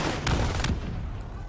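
Gunfire in Call of Duty Black Ops III, two quick sharp bursts close together over a rumbling battle background, then a lower continuous din.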